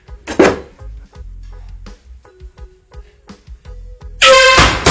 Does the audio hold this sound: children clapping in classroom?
no